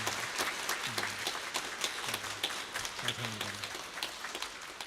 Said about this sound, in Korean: 축하한다고 하는 박수로 여러분들 격려해 주시기 바랍니다